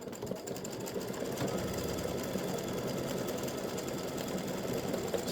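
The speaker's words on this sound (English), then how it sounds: "it stitches the satin stitching around this bat and then starts stitching the little bats for the earrings" An embroidery machine satin-stitching around a bat design for freestanding lace earrings runs with a steady, dense, fast mechanical chatter and hum, close and continuous throughout.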